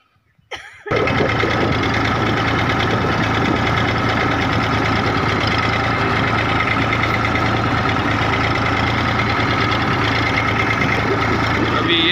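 A farm tractor pulling a trolley loaded with wood runs steadily after a brief start, its diesel engine a loud, close, continuous rumbling drone with a rattling knock throughout.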